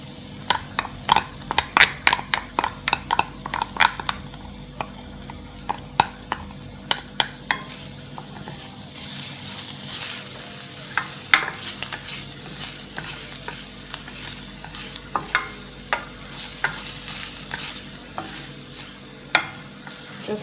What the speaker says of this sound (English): Just continue to stir until the garlic is soft enough